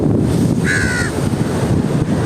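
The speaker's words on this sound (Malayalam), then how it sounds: "ഇത്രയും കാക്ക ഒന്നിച്ച്" One short crow caw cuts through strong wind rumbling against the microphone at a beach in the evening, a single call over constant blustery noise.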